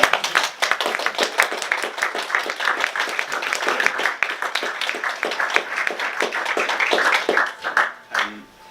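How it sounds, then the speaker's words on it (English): An audience gives a sustained round of applause at a pitching event in London, dense clapping throughout that thins out and fades near the end. "If you give them a round of applause, please."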